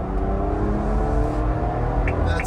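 Ineos Grenadier engine pulling hard under acceleration from inside the cabin, a loud steady low rumble with rising drone and some wind and road noise, no talking.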